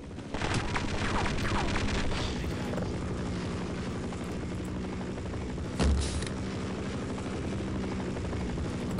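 Helicopter in the video game Half-Life, rotor thudding steadily throughout with gunfire bursts and a loud impact near the middle, no voices.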